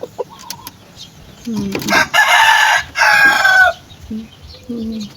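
Chickens cluck and a rooster crows loudly at close range in a backyard flock of pet chickens, with short clucks before and after the long crow.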